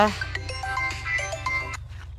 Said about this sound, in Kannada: ಯಾರು ಫೋನ್ ಹಚ್ಚಿದ್ರ? ಅಣ್ಣ ಇದಕ್ಕೆ ಫೋನ್ ಹಚ್ಚಿದ.